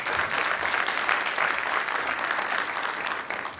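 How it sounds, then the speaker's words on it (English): A large audience applauds presenters at the close of a session, a steady, dense wash of many hands clapping at close range, holding constant for several seconds with no voices on top. "We would like all the audience to give a big hand of applause to the presenters."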